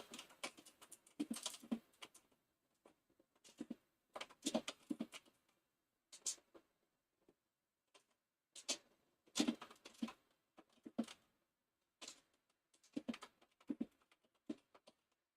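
Bursts of quick keyboard typing, soft plastic clicks arriving in short irregular clusters with brief pauses between, close and fairly quiet.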